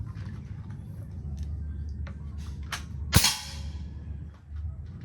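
A single sharp rifle shot cracks out midway while a scope is being zeroed, loud and sudden against steady low background rumble, with a brief decaying tail.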